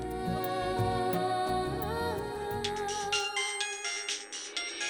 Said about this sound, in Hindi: फोन आ रहा है। अरे फोन उठाइए ना।